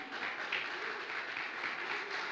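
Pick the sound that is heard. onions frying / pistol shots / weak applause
weak applause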